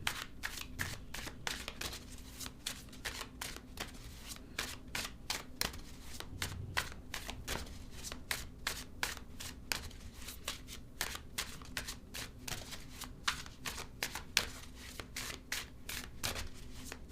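A deck of tarot cards being shuffled over and over, a fast steady run of crisp riffling flutters close up, continuing without pause and with no voices.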